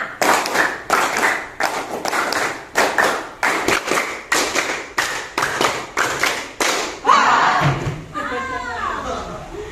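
A class plays a teacher-led clapping game, clapping in unison through about a dozen quick rhythmic bursts, close and loud, before a voice begins speaking at the end.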